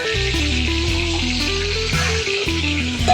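Hilsa fish heads fry in hot mustard oil in a wok, giving a loud, steady sizzle with crackles and spatters throughout, under a faint tonal hum.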